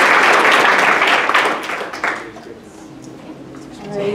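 Applause for two presenters at the close of a teaching and learning with technology session, a burst of clapping that fades after about two seconds into quieter room sound and a voice.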